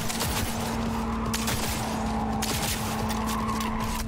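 Rapid gunfire in Cyberpunk 2077, dense overlapping shots over a sustained engine-like hum and steady tone, loud and continuous for the whole stretch.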